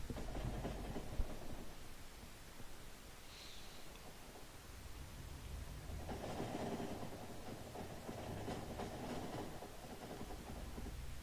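A train rolling past in the factory-building game Factorio, a steady low rumble with clattering wheels that swells again partway through, heard alone without any talk.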